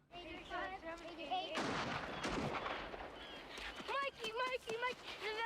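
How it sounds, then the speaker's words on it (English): A few sharp gunshot bangs from the film The Goonies ring out amid muffled talking voices, with echoing reports in the middle and chatter continuing afterward. "that sounded like gunshots"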